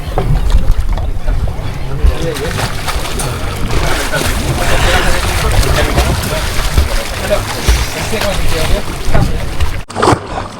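A boat moving across the sea near Oman's Daymaniyat Islands: loud, rushing wind and water noise fills the whole stretch, with voices faintly mixed in and a brief break near the end.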